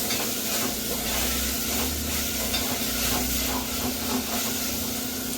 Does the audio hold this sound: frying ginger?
yes